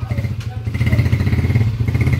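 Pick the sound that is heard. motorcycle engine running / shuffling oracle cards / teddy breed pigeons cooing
motorcycle engine running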